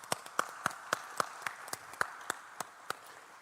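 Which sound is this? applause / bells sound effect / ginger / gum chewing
applause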